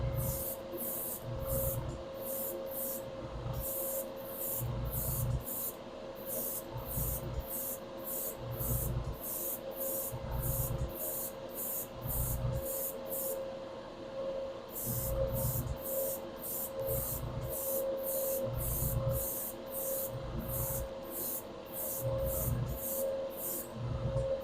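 Bursts of spray painting on a car hood with MCW paint during work on a Chevelle, repeating in an even on-off rhythm against a steady background hum, with no talk.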